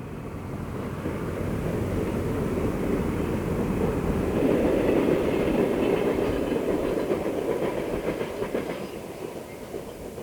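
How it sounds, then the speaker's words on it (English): A Penn Central freight train rumbles steadily past as it goes under the towering Interstate 75 bridge near Ecorse Junction, with rhythmic wheel clatter in a loud, continuous roar and no talk. "The train ducks under the towering Interstate 75 bridge as it approaches Ecorse Junction."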